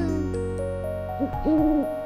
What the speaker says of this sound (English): Even a baby owl making an appearance.